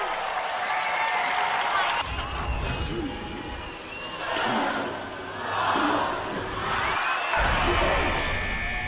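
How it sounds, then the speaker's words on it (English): Studio audience at a televised robot combat event applauds and cheers, a loud broad wash of clapping and whoops swelling and dipping in waves for about nine seconds alongside arena noise. "Give a round of applause."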